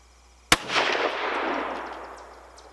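A single loud rifle shot from a Savage Axis II chambered in 350 Legend cracks sharply at close range, followed by a long rolling echo that fades over about two seconds outdoors.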